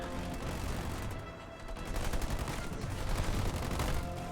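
Sniper and Marine gunfire crackles in a video game 2v2 tournament semi-final on an icy map, a dense, continuous barrage of overlapping shots that dips briefly, then swells louder again.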